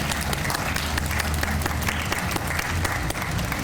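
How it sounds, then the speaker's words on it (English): Sustained applause from an audience at a Constitution Day celebration, dense steady clapping honoring students and teachers, loud and continuous throughout. "So let's give our students a round of applause and our teachers."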